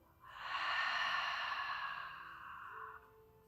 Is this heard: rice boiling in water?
no